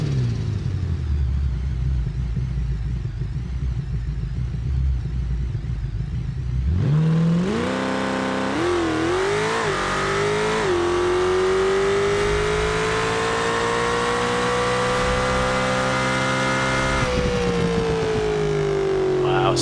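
A car engine in a BeamNG drag race idles warm and low, then roars up hard, climbing through quick gear shifts with brief dips before holding a loud, steady high-pitched drone down the strip.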